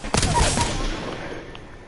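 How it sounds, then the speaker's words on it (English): Gunfire in Apex Legends: a quick burst of several close, loud shots in the first half second, then fading rattling noise. "Shots fired. And they're hitting me."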